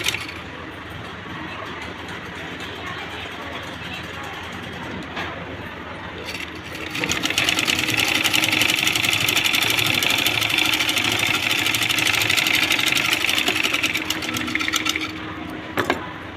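An electric sewing machine stitching a plain blouse runs as a steady continuous mechanical whir, growing louder partway through and holding for several seconds before easing off.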